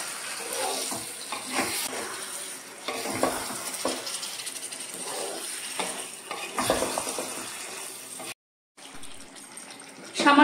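Chicken sautéed in a pan with small splashes of water gives a steady, close sizzle with repeated spatula scrapes and stirring. The sound stops abruptly for a moment near the end, then the frying comes back.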